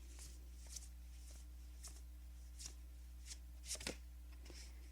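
Tarot or oracle cards are shuffled and drawn in a quiet room, giving soft scattered riffles and light taps over a low steady hum.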